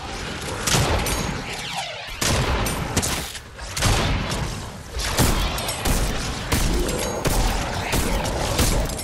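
Rapid gunfire bursts and booms from a shooter video game, loud and almost continuous over a busy mix of game effects, with a faint voice now and then.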